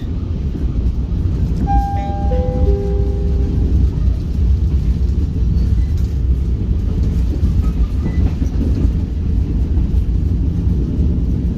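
Heavy, continuous rumble of an Indonesian commuter train rolling on rails between Bojonegoro and Benowo, loud and steady throughout, with a brief descending chime early on.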